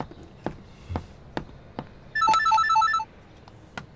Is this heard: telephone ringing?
yes